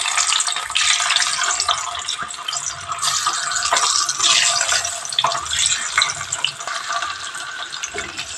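Boiled eggs frying in hot oil with turmeric in a pan, a steady close sizzle and crackle of bubbling oil running throughout with no talk.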